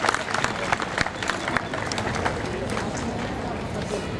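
Audience applause at a school annual function as a teacher receives an award, a loud continuous crowd clapping with some murmuring voices underneath.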